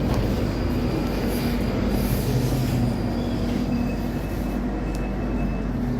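A London Underground Northern Line train on the Charing Cross branch runs steadily and loudly throughout, with a continuous low rumble of wheels on track and faint squeals, and no speech.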